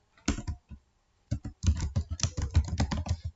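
Typing on a computer keyboard while writing a comment in Microsoft Word: close, crisp key clicks in a short burst, a pause of about a second, then a longer run of fast rhythmic tapping, with no speech.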